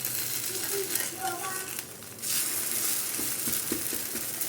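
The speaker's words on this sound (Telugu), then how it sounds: "మీడియం ఫ్లేమ్లో పెడితే ఈ విధంగా ఫ్రై అవుతాయి అన్నమాట" Sponge dosa batter sizzles on a pan over a medium flame, a soft steady frying hiss with a short lull midway and a few light clicks from turning, under quiet talk.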